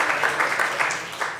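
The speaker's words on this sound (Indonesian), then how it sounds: "Tepuk tangan dulu dong buat kalian semua." Audience at a sales and marketing presentation clapping for one another, a short burst of dense applause at moderate volume that fades slightly toward the end.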